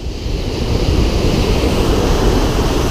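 Ocean surf rolls onto the beach at Port Kembla, Australia, a steady, loud roar of breaking waves mixed with wind buffeting the microphone, with no voices.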